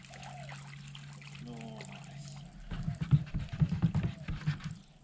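Fresh water is poured into a blue bowl of gold-bearing concentrate and clay mud, trickling steadily at first, then sloshing and splashing more loudly as it is agitated, under low background hum.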